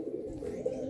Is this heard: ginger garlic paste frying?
no